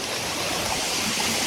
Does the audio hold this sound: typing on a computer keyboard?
no